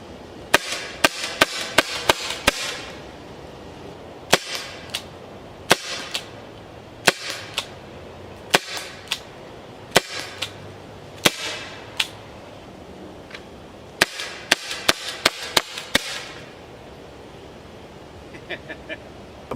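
A Byrna HD launcher firing rounds, similar to a paintball gun: sharp, snappy pops in quick bursts and single shots spread across the clip, close and loud, with occasional voices between them.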